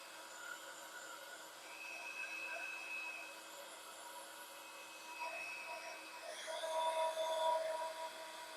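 A handheld heat tool blows hot air over a wet, curling crafting card. Its steady whine and airy rush hold at a moderate level close by, with a slight rise in pitch and strength toward the end.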